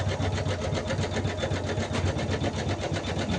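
A sewing machine runs steadily while stitching a blouse with a broad neck design, giving a fast, even mechanical whirr with rapid needle pulses throughout, close and fairly loud with no talking.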